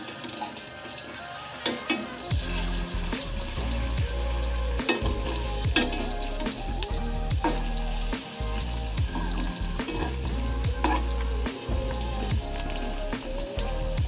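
Potato peel fritters fry in oil in a pan, turned over and pressed with a spatula, giving a continuous loud sizzle with occasional sharp scrapes and taps from the utensil.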